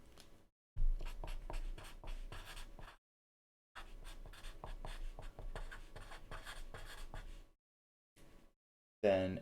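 Chalk or marker writing on a lecture board in a math class, two long bursts of rapid tapping and scraping strokes separated by silence, close and clear with no talking.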